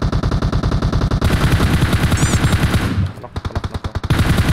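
Rapid automatic gunfire in the video game PUBG Mobile, loud sustained bursts of evenly spaced shots with a brief pause before a final volley, a voice faintly mixed in.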